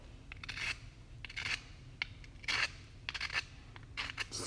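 Scraping a marble rock sample, giving short rough rasping bursts repeated several times at an irregular pace, close and fairly quiet, with no one talking.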